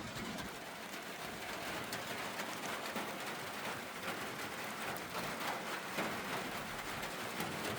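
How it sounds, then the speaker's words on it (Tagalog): Rain falls steadily and densely, heard from inside a small shed, a constant close hiss of drops on the roof with no voices. "Dahil umuulan, tago muna tayo."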